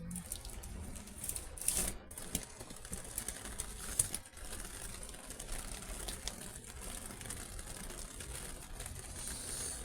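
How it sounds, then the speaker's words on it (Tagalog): Heavy rain suddenly picking up outdoors in Australia, a loud continuous broadband hiss and splatter, with a couple of sharper bursts of drips and spatters standing out over the steady downpour. "Lumakas bigla yung rain."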